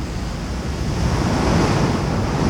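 Storm waves and wind at sea during a nor'easter, with waves up to 12 feet around a sailboat: a steady, loud, broadband roar of surf and gusting wind with no clear breaks.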